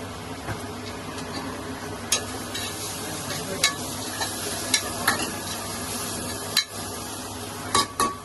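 Salted onions fry and soften in a pan for mutton curry, a continuous sizzle broken by sharp scrapes and clinks of a spoon stirring against the metal, close-up and with no voices.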